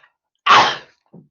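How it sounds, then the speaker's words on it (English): A single loud, close sneeze bursts out mid-clip, followed by a faint, brief trailing sound, with near silence around it. "I think I'm going to sneeze"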